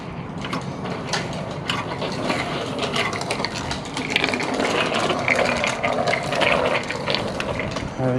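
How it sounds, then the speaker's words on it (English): Ratchet tightening the bolts of the transmission filter on a Honda Goldwing DCT motorcycle, a dense run of rapid close clicks and mechanical rattles without pause. "Now it's time to tighten the bolts for the transmission"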